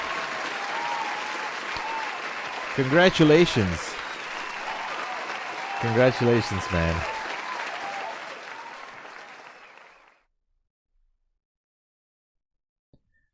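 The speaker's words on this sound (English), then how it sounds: "let me give you an applause." Applause from a small group fills the room for about ten seconds, with two voices offering brief congratulations over the clapping before it cuts to silence.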